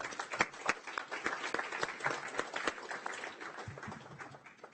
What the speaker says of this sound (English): through a round of applause